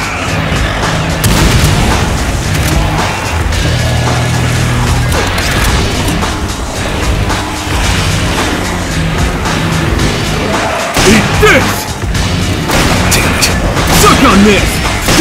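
Frag grenade explosions in Resident Evil 5 boom through a dense, continuous din of game combat, with heavy impacts and crashes and voices sounding over the action.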